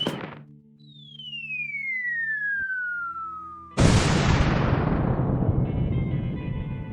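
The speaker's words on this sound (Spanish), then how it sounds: "Los polacos se decidieron a lanzar una segunda bomba atómica en Kursk, al sur de Moscú." In the video game WorldBox, an atomic bomb falls with a long descending whistle, then detonates in a loud, sudden blast that rolls into a slowly fading roar.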